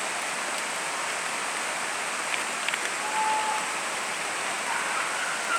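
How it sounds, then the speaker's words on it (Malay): Steady rain falling outdoors, a dense, even hiss that holds without pause from start to finish, with no voices over it. "Hari masih hujan mak."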